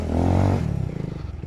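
A motorcycle's loud exhaust roars close by, a sustained throaty blast that breaks into rapid popping, sputtering pulses as it settles, with no talking.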